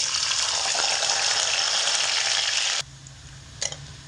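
Diced medium carrots fry over medium heat for sago pulao, giving a loud, steady hiss of sizzling oil that cuts off abruptly partway through, followed by near quiet and a short soft clink.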